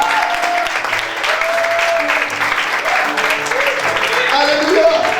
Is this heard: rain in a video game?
no